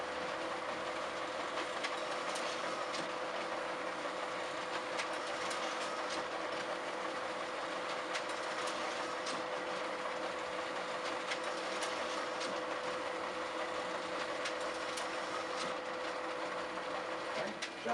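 Steady rapid mechanical clatter of a VIP feeder pushing envelopes one after another into an Oki printer, a continuous rhythmic clacking hum at moderate level with no voices.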